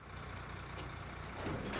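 A heavy truck's diesel engine idles steadily and close by, its low rumble carrying through a short stretch during a tow hookup, with a faint rise near the end.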